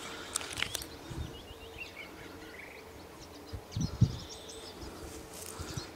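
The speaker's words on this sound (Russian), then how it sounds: "птички поют" Birds call and chirp faintly in a forest near Murmansk, sparse scattered notes over a quiet outdoor background with occasional soft rustling.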